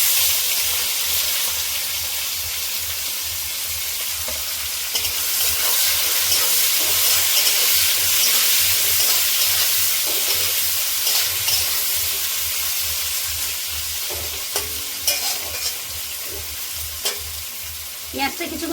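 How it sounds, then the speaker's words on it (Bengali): Onion sizzles steadily in hot oil with bay leaf, whole cumin, cinnamon and green cardamom, the start of a chicken kosha; a loud, continuous frying hiss with occasional stirring clinks near the end. "পেঁয়াজটা কিছুক্ষণ ভেজে নেব।"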